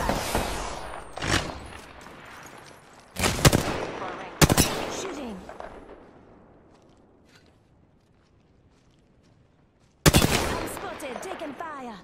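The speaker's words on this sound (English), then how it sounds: "Getting shot at." Gunfire in the battle-royale game Apex Legends comes in sharp, loud bursts of rapid automatic shots separated by quieter stretches, with echoing tails and faint footsteps between volleys.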